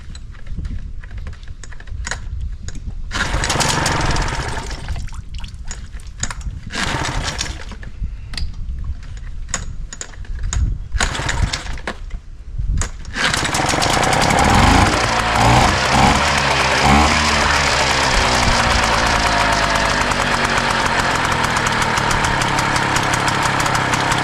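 A Hangkai outboard motor is pulled and fed choke, with several sharp rattling starter pulls and sputters before the engine catches and settles into a loud, steady running drone, heard close and alone.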